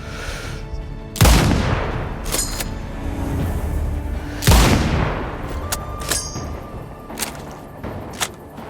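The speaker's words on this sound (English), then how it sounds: "Continuing mortar fire." Mortar fire in the Sniper Ghost Warrior Contracts 2 video game, with two heavy booming impacts a few seconds apart, each trailing into a long rumbling decay, followed by scattered fainter cracks.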